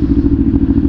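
Big motorcycle with a loud exhaust muffler: a short burst of deep, throbbing engine and exhaust rumble, close and steady for under a second, with no talk.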